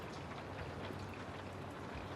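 Steady, dense rain patter with a low rumbling wash underneath, continuous and fairly loud throughout, with no voices.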